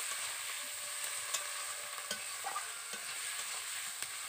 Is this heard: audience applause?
no